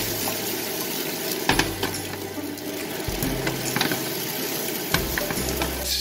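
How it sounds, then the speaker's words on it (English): Red peppers stir-fry in hot canola oil for Vietnamese shaking beef, a dense close sizzle with rattling clicks and scrapes of the pan and utensil throughout; no speech. "Now we're gonna fry up the peppers first."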